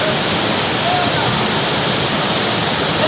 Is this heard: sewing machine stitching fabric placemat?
no